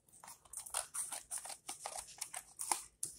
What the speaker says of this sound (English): Always handy to have some scissors.